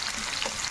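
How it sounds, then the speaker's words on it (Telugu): Onion pieces fry in hot oil for a Hyderabadi Nizam chicken curry, a brief, dense, continuous sizzle heard close up with no voices. "ఇప్పుడు ఉల్లిపాయ ముక్కలు వేసుకుందాం"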